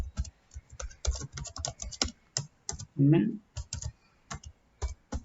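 Java code is typed on a computer keyboard in quick, irregular bursts of close key clicks, with a brief spoken murmur in the middle.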